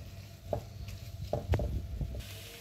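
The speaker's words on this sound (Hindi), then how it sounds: "2 टीस्पून आपने चिली सॉस ऐड करना है। दो मिनट इसे पकाएं।" Chili sauce cooking in a pan for a creamy cheese lasagna, a soft sizzle under several distinct spoon-scraping and stirring knocks spaced about half a second apart.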